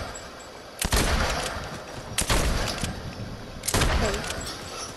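Three loud, spaced shots from a video game gun ring out about a second and a half apart, each followed by a decaying reverberant tail over a steady background noise.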